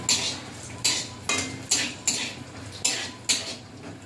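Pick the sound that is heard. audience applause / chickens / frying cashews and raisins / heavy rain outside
frying cashews and raisins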